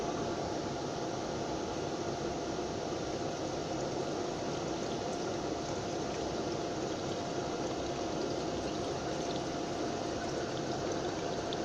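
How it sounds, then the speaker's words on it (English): Liquid poured through a pre-wet filter: a continuous, even rushing flow that holds steady and fairly quiet throughout, with no voices. "So let's just put it through the filter and see what we do later on."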